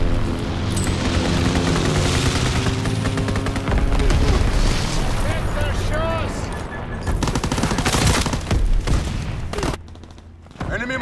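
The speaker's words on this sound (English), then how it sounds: "Enemy mortar fire incoming." Enemy mortar fire in a Call of Duty WWII team deathmatch on the Gibraltar map, loud booming impacts mixed with heavy, continuous gunfire and a brief dip toward the end.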